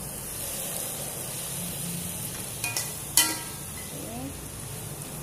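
Small whole vegetables frying in a pan, a steady soft sizzle with a few sharper crackles and clinks partway through.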